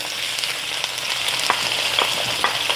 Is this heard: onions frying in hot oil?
yes